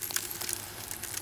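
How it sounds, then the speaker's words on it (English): Small seeds clatter and bounce on a hard floor in a scatter of faint, quick clicks and ticks that keep going through the moment, with no voices. "This is the sound of seeds falling on the floor."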